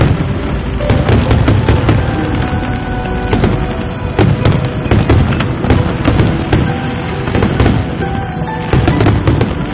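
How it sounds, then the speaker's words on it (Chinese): Dense fireworks display with rapid cracks and booming bursts going off continuously, close and loud, layered into a constant rumbling crackle throughout. "放烟花！"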